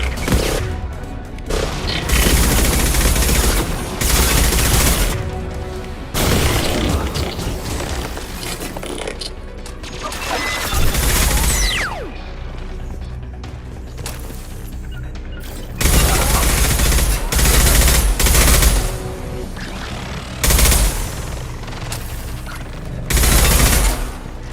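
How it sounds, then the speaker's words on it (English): Heavy gunfire rages in a Mass Effect 2 firefight, with loud, dense bursts of automatic shots and booms that surge and ease in waves. A voice is partly buried under the barrage. "Taking heavy fire."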